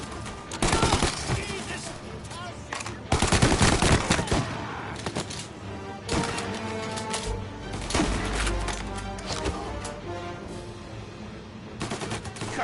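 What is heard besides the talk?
gunfire in the video game Mafia Definitive Edition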